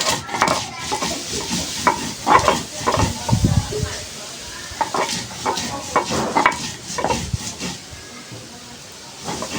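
Green chillies are ground on a grinding stone, giving irregular rasping and rubbing strokes up close, uneven in loudness and spacing, with a faint voice now and then.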